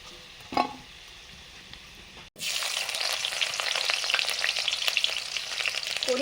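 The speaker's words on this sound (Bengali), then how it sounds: "একটু পেঁয়াজ ভেজে নিচ্ছি" Onions frying in a hot pan at home while a Bengali meal is cooked, with potatoes already fried: a steady, dense sizzle starts suddenly after a brief quiet stretch with one small clatter, then crackles on loudly and close.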